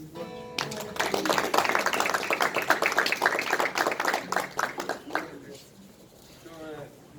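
A church congregation claps for Jesus during a sermon, with a dense burst of applause from about 0.6 to 5.2 seconds before it dies away and a voice begins to speak.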